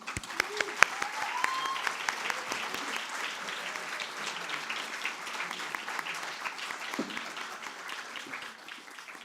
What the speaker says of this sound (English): A big round of applause for Naseem.